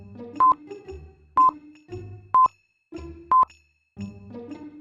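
A telephone keypad sends four short, loud dialing tones at an even pace, each following a brief stretch of ringback-like hum, with nothing else in between.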